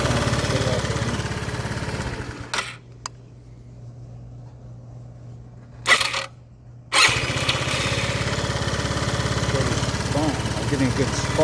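A Lance Cabo scooter engine chugs loudly up close, cuts out into near silence with a couple of brief cranking bursts, then fires back up and runs steadily again.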